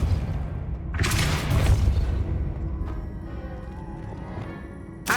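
The Depulso force spell is cast in Hogwarts Legacy, a sudden booming blast that swells and then fades into quieter game ambience.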